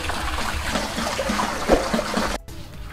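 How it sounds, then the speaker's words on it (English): Water gushes steadily from a hand-operated wheel pump drawing from a deep well, a continuous close splashing flow that cuts off abruptly near the end. "as you can see, I can do with my one finger can pump this water."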